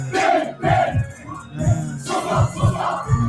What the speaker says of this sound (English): the crowd is just going sick, bro